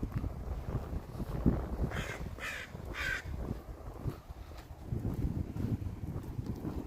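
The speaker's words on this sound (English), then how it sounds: "there's a lot of crows around here, I've noticed. I hear them all the time" Several crows caw out in a Burnaby neighbourhood in Vancouver, their calls rising in short bursts around the middle over steady outdoor background noise.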